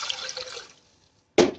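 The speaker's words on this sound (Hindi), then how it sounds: "अभी साइड पे हमने प्रेशर कुकर ले लिया, उसके अंदर हमने थोड़ा पानी ऐड कर देना है" Water is poured from a vessel into a pressure cooker while masoor dal is being prepared, a short splashing pour followed by a pause and a brief louder splash near the end.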